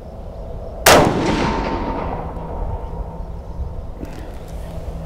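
A single loud, close shot from an Armalite Super Sass .308 rifle outdoors cracks sharply and then rolls away in a long decaying echo, with a faint second report later.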